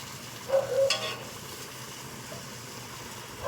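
Sweet corn kernels fry lightly with masala in a pan, a soft low sizzle under occasional scraping stirs, close and quiet, with no voices.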